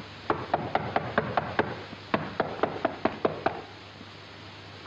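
Knuckles rap on a wooden door early in the morning in a 1937 film scene, two even bursts of about seven or eight knocks each, separated by a brief pause, close and crisp.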